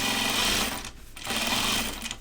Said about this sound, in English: So I'm going to understitch again on this side of the inside collar.